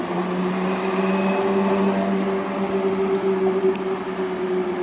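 A Porsche Carrera GT supercar on the streets of Monaco makes a steady, tonal engine drone that holds throughout at moderate distance.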